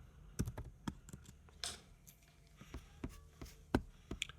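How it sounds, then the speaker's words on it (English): Keys clatter on a computer keyboard in short, irregular bursts of soft clicks, fairly quiet and close, with no voices over them. "So let me just type Milo."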